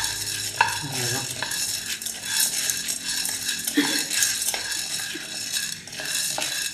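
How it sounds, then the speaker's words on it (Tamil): Maize kernels dry-roasting in a pan, stirred with a metal spoon that scrapes and clinks steadily against the pan over a faint sizzle, close and busy, no voices. "அடுத்து மக்காச்சோளம் போட்டுக்கிறோம். போட்டு நல்லா வறுத்துக்கிறோம்."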